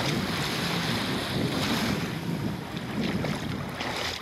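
Waves and strong wind on Shipwreck Beach in St Kitts make a constant loud roar of surf and wind noise against the microphone, with no talking.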